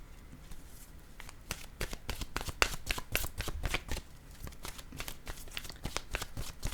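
Tarot cards being shuffled, a steady run of quick papery riffles and snaps close up, with no talking.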